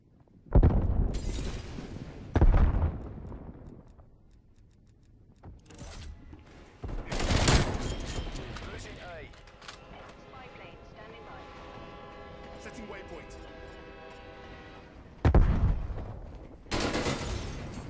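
Call of Duty gunfire with a Bullfrog submachine gun comes in several sharp, loud bursts scattered among game ambience, and a voice talks in between the shots.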